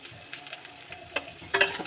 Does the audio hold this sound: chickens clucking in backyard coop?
no